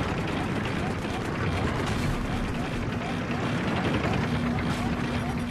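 Battlefield video game helicopter battle: a steady loud rotor and engine roar fills the scene with bursts of gunfire and explosions mixed in, while players talk over it.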